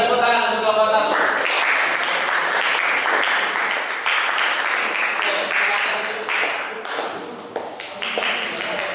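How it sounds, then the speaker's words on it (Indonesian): A classroom of physics students applauds a student group after its presentation, loud and close, with scattered claps and voices mixed in that taper off toward the end. "Kita kasih tepuk tangan untuk kelompok 1"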